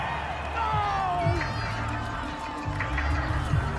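Home stadium crowd roaring in Madden NFL 22 after a flag on an incomplete pass, a steady swelling cheer that lifts twice, running under a commentator's talk.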